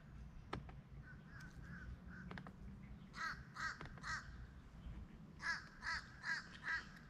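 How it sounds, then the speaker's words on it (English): A crow caws outdoors in a series of harsh calls, first scattered, then a run of about eight evenly spaced caws, fairly distant over a low background hum, with no talking. "Crow."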